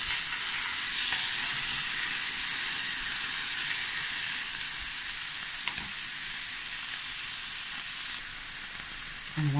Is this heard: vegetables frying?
yes